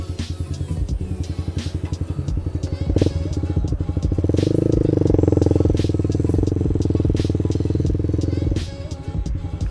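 A Yamaha R15 V2 150 cc motorcycle with a racing-look modification ridden on the road near Nagreg, its engine a steady, close droning hum that swells louder and higher midway through the ride before easing back down, with wind rushing underneath.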